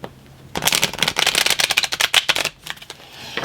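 Tarot and oracle cards being shuffled by hand close up, a rapid crisp flurry of riffling card snaps lasting a couple of seconds before tapering off.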